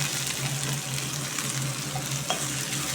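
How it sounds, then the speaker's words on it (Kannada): Onions and curry leaves fry in oil in a pan for sambar, a constant close sizzling hiss with a faint stirring scrape near the end and no voices. "ಕರ್ಬೇವಿನ ಸೊಪ್ಪು, ಈರುಳ್ಳಿ ಹಾಕಿ ಚೆನ್ನಾಗಿ ಫ್ರೈ ಮಾಡ್ಕೊಳ್ಳೋದು"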